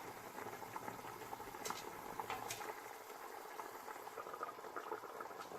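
Mutton yakhni broth boils in a pot, a soft continuous bubbling and patter heard close, with a few brighter pops and no voices.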